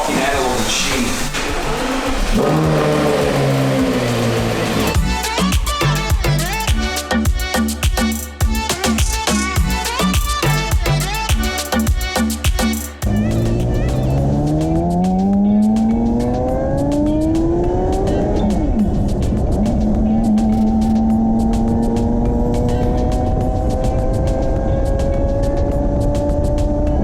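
Porsche Carrera GT engine revving hard while driving, rapid gear-by-gear pulls with sharp rising howls, a burst of choppy revving, then long climbing wails and a sustained high scream, loud and close, with occasional voices inside the car.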